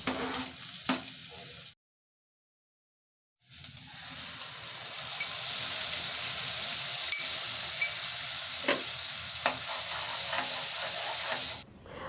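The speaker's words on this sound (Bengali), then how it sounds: "দেন হচ্ছে ওই বাটা মশলাটা দেয়।" Ground spice paste sizzles loudly in hot oil with fried chopped onions, a steady frying hiss that pauses briefly and resumes, with occasional stirring clicks and no talking.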